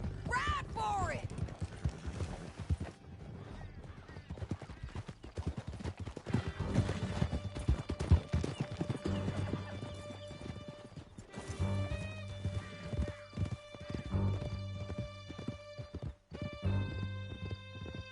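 Horses gallop in a video game with rapid, rhythmic hoofbeats, an occasional whinny and bursts of gunfire, while voices speak over the action.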